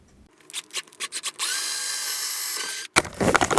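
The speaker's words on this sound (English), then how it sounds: "now let's go ahead and drill some holes" Several short whirring pulses from a power drill, then a sustained high-pitched drilling run before it stops and starts again in quick bursts.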